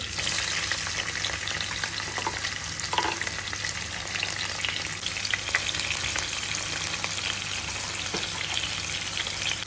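Chopped onion, green chilies and garlic fry in a pan with a loud, continuous close sizzle and occasional stirring scrapes, no voices.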